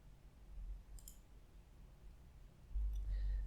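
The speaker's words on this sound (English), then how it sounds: "So let's make a right click, then add the new table." A computer mouse button is pressed twice, two small, crisp, close clicks about two seconds apart over a faint low background hum.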